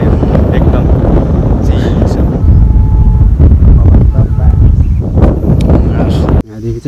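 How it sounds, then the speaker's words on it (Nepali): Strong wind gusts across a hilltop, buffeting the microphone with a loud, rumbling roar that runs continuously, while a person talks through it. "हावाले एकदम उराउरा जस्तो गरिरह"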